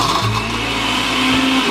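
A blender crushes Oreo cookies for a cheesecake crust, a loud, steady whirring motor roar close by that runs unbroken with no speech.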